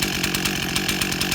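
Stihl 044 Magnum chainsaw running flat out at high overspeed RPM, a loud, close, continuous buzzing scream with a rapid pulsing texture.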